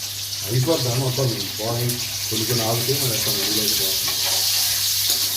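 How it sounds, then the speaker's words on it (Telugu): Cut drumsticks fry in a pan with a continuous, close sizzle and hiss while someone talks over it through most of the stretch. "మునక్కాయలు అయితే మంచి ఫ్రై అయిపోయినాయి"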